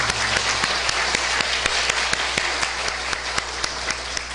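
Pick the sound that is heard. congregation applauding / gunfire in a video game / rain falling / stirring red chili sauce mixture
congregation applauding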